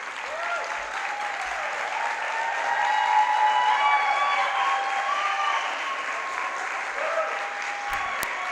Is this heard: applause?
yes